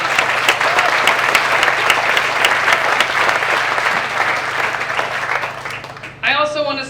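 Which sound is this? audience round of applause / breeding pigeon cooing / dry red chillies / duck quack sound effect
audience round of applause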